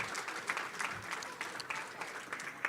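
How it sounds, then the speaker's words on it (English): An audience at a school board of education meeting applauds Northside students and staff, a dense steady round of clapping from many hands, moderately distant and sustained throughout. "How about another round of applause for our Northside students and staff?"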